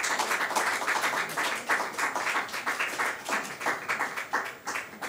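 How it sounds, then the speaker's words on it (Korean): An audience claps to welcome performers at a Korean foreign ministry cultural diplomacy advisory committee appointment ceremony, with many hands in a full, continuous round of applause that swells and dips in rhythmic bursts. "박수로 환영해 주시기 바랍니다"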